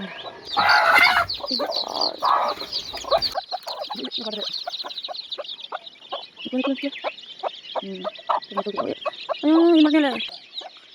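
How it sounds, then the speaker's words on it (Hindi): Chickens cluck and squawk repeatedly at close range on a village farm, a busy run of short calls with a louder burst near the end. "देखो मुर्गी को"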